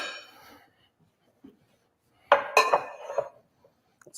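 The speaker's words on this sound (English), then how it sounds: "Let's get a cute bowl." Ceramic bowl and dishes knocked and set down on a counter in a kitchen, a couple of faint taps early, then a short close burst of clinks and clatter.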